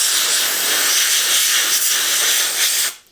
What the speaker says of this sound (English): So last step, I'm gonna come in with dust off.